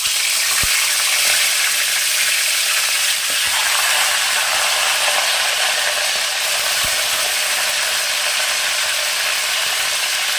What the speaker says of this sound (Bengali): তেল গরম হয়ে গেছে, এবার আমি দিয়ে দেবো মাছের মাথাগুলো।